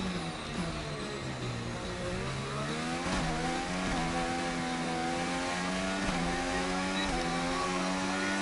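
Race car engine running a lap at Melbourne in an F1 video game, a steady high-pitched whine whose tone climbs and drops through gear changes, loud and constant throughout.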